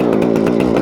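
A chainsaw cuts through a fallen snag log, running loud and close at full throttle, with a steady buzzing roar and slight pulsing as the chain bites into the wood.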